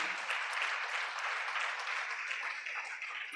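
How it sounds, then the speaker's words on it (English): Audience at an international yoga festival giving a big round of applause, a bright, dense and even patter of many hands sustained throughout. "I just wanted to take a moment to get a very big round of applause for her"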